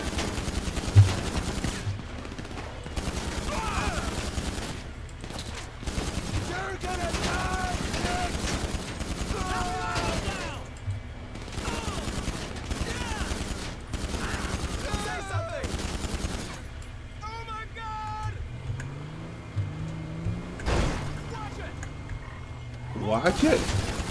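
Rapid gunfire from a vehicle gunner in GTA 5 Online crackles in repeated bursts and sustained volleys, moderately loud, while players talk excitedly over the shooting.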